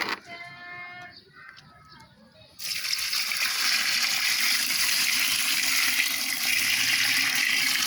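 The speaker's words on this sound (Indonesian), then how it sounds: "setelah itu air leri yang sudah kita campur dengan molase tadi langsung kita tuangkan" Rice-washing water mixed with molasses is poured out for a homemade organic fertilizer, a sudden loud continuous gush of liquid after a brief quieter start with faint voice.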